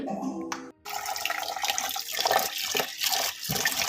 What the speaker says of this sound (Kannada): ಅದನ್ನು ಒಂದು ಬೌಲ್ಗೆ ಹಾಕ್ಕೊಂಡು ಎರಡು ಸಲ ವಾಶ್ ಮಾಡ್ಕೋಬೇಕು ನೀರಲ್ಲಿ